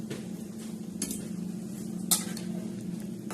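A spoon stirs yellow-masala vajadi curry bubbling in a pot, giving a soft simmering hiss with a few sharp clinks of metal against the pan, one near the middle standing out loudest; no one speaks.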